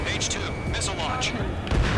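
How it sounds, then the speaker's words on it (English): A missile launches in the Ace Combat 7 flight game as a loud, roaring blast rumbles with a booming low end, while voices speak over it. "H2, missile launch."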